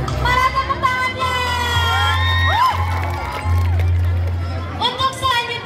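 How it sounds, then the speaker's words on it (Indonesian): An audience at a school class event cheers and whoops loudly with a dense crowd roar, continuous and close, while a voice talks over it through a sound system. "Para tepuk tangannya."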